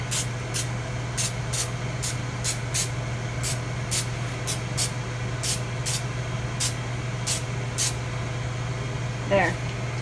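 Quick squirts of cooking spray hiss onto a bread loaf pan in a rapid series of short bursts over a steady low hum, followed by a brief exclamation at the end.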